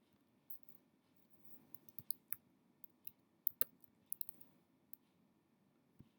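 A computer mouse clicks with sparse, crisp, quiet clicks at irregular intervals, some in quick pairs, over a faint low hum during AI blog banner design work, with no talk.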